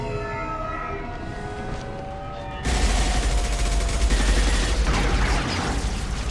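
Sudden burst of dense gunfire in a firefight in the video game Mass Effect 2, loud rapid shots erupting after a wailing, siren-like tone, continuing heavily to the end.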